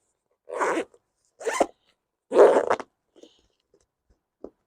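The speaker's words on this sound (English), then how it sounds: "Look, we have a cute little charm zipper." A charm zipper on a small faux leather item is zipped in three quick rasping pulls, close and crisp, followed by a few faint clicks and taps.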